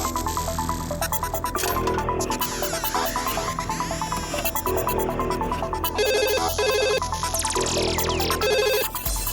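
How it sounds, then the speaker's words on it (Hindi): A phone ringtone plays continuously, a busy electronic melody with repeating chimes and tones, steady and fairly loud with no talking. "Sandy please pick up the phone"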